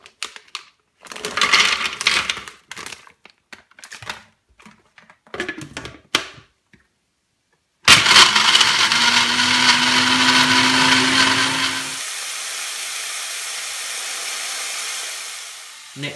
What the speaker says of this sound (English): I've got the food processor, and I'm just going to put the Brazil nuts in there and chop them all up into little bits